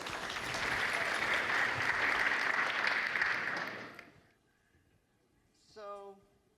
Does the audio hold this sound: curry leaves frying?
no